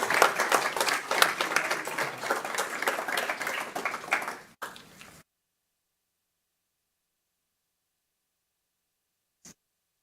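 Applause rises from attendees at a city council meeting in Columbia, Tennessee, a dense clapping wash for about four seconds that cuts off abruptly into silence, with a brief click near the end.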